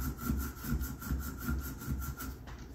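An IKEA particle board desk surface being scraped with a cap: rhythmic rasping strokes, about six even back-and-forth passes, close and fairly loud with a gritty, sawing texture.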